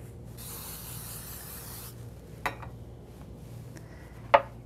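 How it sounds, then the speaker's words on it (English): Cooking spray hisses from a can onto a baking pan in a short burst of about one and a half seconds, followed by quieter ambience and a couple of light clicks from the pan. "So what we're going to do is spray our pan."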